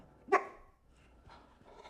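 A dog gives a single short, sharp bark nearby, followed by quiet breathing and faint room noise.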